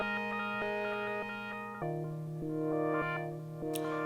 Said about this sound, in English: What you're hearing right now is the Dreadbox Polyend Medusa